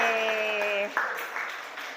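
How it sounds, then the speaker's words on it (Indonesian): A short burst of audience applause in a class award announcement follows a held electronic tone, then settles into a moderate, fairly soft clapping texture. "Tepuk tangan buat Sase."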